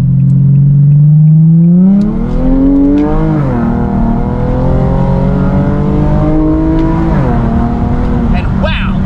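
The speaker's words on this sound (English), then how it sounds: "You can hear the engine just screaming, the RPMs is just jumping up" A 2008 Infiniti G35 with a Sprint Booster set to race mode 9 revs hard up close, its engine pitch climbing and falling in repeated surges over a loud, continuous roar, with someone talking over it.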